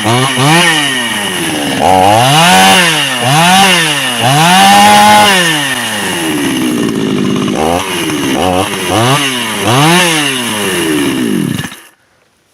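A petrol chainsaw with a faulty starter runs close by, its engine repeatedly revving up and dropping back in loud surges before cutting off abruptly at the end.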